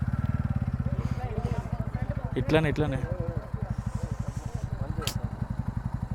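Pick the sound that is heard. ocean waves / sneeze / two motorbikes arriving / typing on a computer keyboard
two motorbikes arriving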